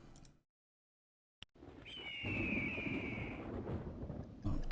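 A bird call rises over a low rumble of thunder, with a gliding whistle-like tone held across the rumble; a brief click comes before it, and the rumble swells toward the end.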